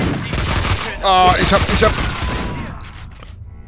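Rapid gunfire bursts from the video game Max Payne 2, loud and dense for about two and a half seconds before tapering off, with someone speaking German over the shots.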